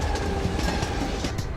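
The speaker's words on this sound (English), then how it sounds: "The train is traveling at more than 160 kilometers an hour" A runaway train speeding on rails in the Trainz video game gives a loud, continuous rumbling roar with rhythmic wheel clatter and faint squeal, close and steady throughout.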